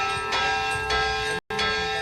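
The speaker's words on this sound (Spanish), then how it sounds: "Con este repique de campanas, empezó la misa" Church bells peal in a steady, resonant ring before mass at a parish church, a few broad strikes over a sustained hum of overlapping tones, with one brief cut to silence midway.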